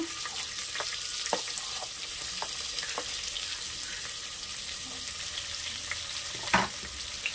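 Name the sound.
sliced onion frying for field bean pulao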